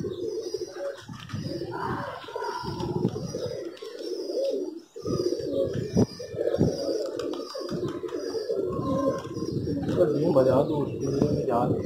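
Pigeons coo steadily near a cage in a deep, throaty rolling murmur, close and continuous, with occasional higher chirps and a brief wing flutter. Someone talks quietly in places over the birds.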